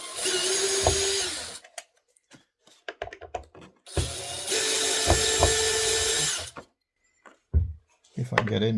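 A cordless power drill whirs in two long bursts while removing bent undercarriage legs, with clicks and handling noises between them, close by.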